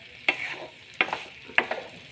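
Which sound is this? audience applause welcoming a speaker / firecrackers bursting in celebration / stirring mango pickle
stirring mango pickle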